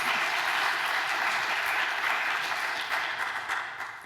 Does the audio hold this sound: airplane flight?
no